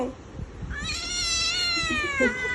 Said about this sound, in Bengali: তুমি একটা দুষ্টু বিড়াল